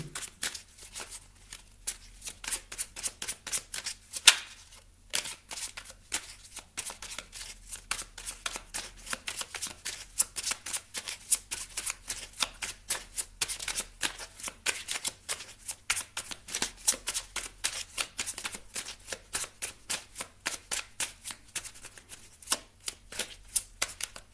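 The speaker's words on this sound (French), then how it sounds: "On va aller prendre une dernière carte ici du petit oracle du druide." Druid oracle cards being shuffled by hand, a rapid run of crisp riffling snaps and flutters that continues close and steady with no talk.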